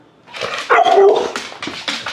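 Pit bull and Staffordshire boxer mix dog giving a short burst of close, loud barks and yips mixed with whimpering, lasting about a second and a half.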